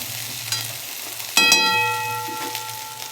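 Pieces of kundri (ivy gourd) frying in a pan are turned and stirred, a soft steady sizzle with brief scraping stirs and a sharper clatter midway.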